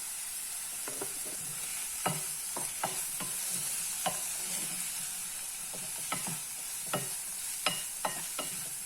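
Tomato with turmeric and salt sautéing for an onion capsicum curry, a bright steady sizzle with irregular, close scrapes and taps of a spoon stirring through the pan, no voices.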